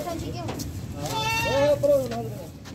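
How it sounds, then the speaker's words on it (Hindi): A Rajanpuri Gulabi goat bleats while being loaded for transport. A single wavering, drawn-out cry rises close by, with people talking underneath. "नंबर 1 पे ये बकरा लोड कर रहे हैं।"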